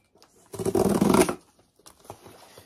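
A freshly delivered parcel of Luxeol hair-care products is torn open, producing a loud, close burst of crinkling and ripping packaging that lasts about a second, followed by quieter rustling and handling.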